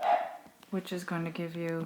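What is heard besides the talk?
dogs barking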